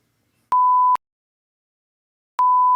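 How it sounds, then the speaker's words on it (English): An electronic notification sounds as two clean, identical beeps, each about half a second long and separated by a gap of nearly two seconds, loud against silence. "now I get notifications. I never do normally, but of course, as soon as I start recording, bling!"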